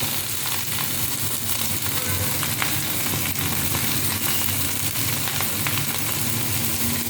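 Ingredients for mango rice sautéing in a pan, a continuous close frying sizzle with occasional stirring scrapes, steady and fairly loud with no talk.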